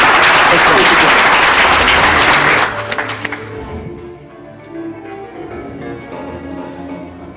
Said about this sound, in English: let's give a round of applause to Ellen Barr back here, who's our volunteer